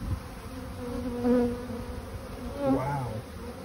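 Bees buzz close by at a hive door during a bee rescue, a steady droning hum with a few louder passes as individual bees fly near, no talk.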